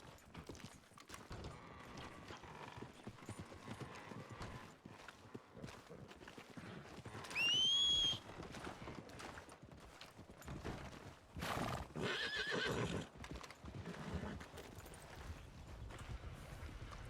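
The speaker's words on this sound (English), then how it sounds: "Why are there 2 horses here now?" Video game horses: hooves clip-clop at a trot with mechanical rattles, and a horse gives a loud high whinny partway through, alongside other bursts of movement.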